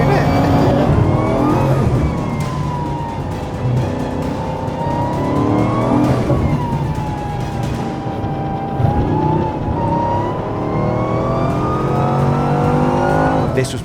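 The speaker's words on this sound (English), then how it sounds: "I needed to get a perfect corner exit and pin the throttle as early as I could" A 1,600-horsepower Bugatti pulls hard at full throttle out of a corner, its loud engine note climbing steeply and dropping at each gear change, heard from inside the car.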